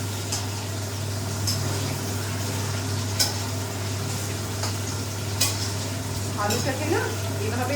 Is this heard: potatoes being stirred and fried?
yes